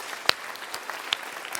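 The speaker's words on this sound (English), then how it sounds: "I want everybody to clap just randomly" Scattered, uneven clapping from a conference audience told to clap at random, with a few sharp isolated claps over a faint, loose patter, fairly quiet and brief.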